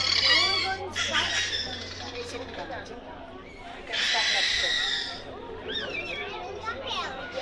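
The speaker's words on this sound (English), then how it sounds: "Let's give the belugas a big round of applause for this vocalization." Beluga whales at an aquarium give high, squeaky whistles and chirps in bursts, with louder noisy squeals near the middle, under a low steady hum and faint background chatter.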